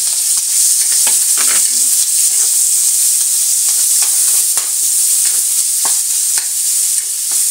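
Garlic and onion brown in a hot pan for pork igado, a loud continuous sizzle and frying hiss up close with occasional stirring clicks and no talking.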